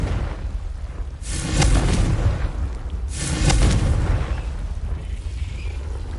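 A Confringo blasting spell in Hogwarts Legacy on PS5 explodes twice, each a loud broadband burst with a deep rumbling tail, about two seconds apart, over steady game ambience.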